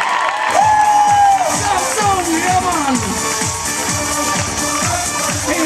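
A hotel audience claps and cheers for a kids' entertainer, with a crowd's shouts and whoops rising over music that has a steady pulsing beat, and the cheering stays loud throughout.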